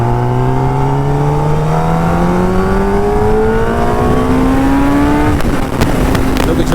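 A Kawasaki ZX10R motorcycle engine revving under throttle, a loud, close, rising whine climbing steadily in pitch for several seconds before easing off and settling.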